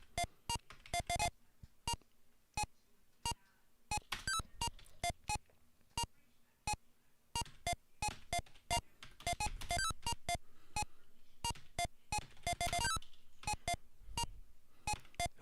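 Short electronic beeps from the Nintendo arcade game Mappy, sounding in sparse isolated blips at first, then packing into rapid clustered bursts, clear and close with no talking.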